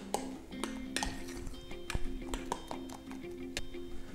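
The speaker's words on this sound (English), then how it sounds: "And now mix that all through." Utensil clinking against a bowl while tartare sauce is stirred together with pickled cucumber, a series of light, bright taps and scrapes at an irregular rhythm, close by, over a low steady kitchen hum.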